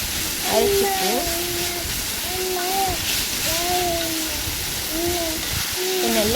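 Okra and other ingredients sautéing for vendakkai puli kulambu, a steady broadband sizzle running the whole time, with repeated tonal chirping sounds layered over it.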